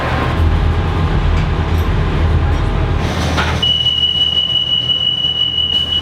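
An Arriva Trains Wales train pulls into a Cardiff Valley Lines platform, a loud steady rumble of wheels and carriages that gives way to a long, high, sustained brake squeal as it slows.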